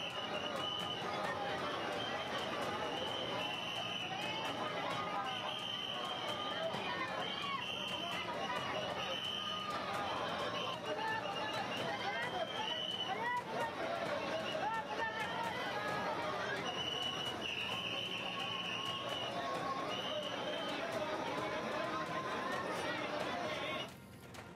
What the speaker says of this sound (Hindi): इस दौरान मंदिर में श्रद्धालुओं की भारी भीड़ भी देखी गई।